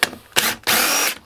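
Power drill backing screws out of a glued-up wooden test piece for window trim, two short whirring bursts followed by a longer sustained run, close and loud.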